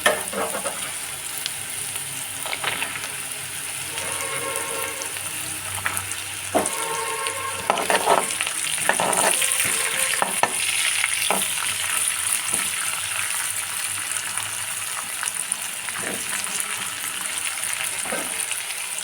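Raw peanuts fry with vegetables in a pan, a loud, steady sizzle close by with repeated scraping and stirring clatter from a spatula, no talk.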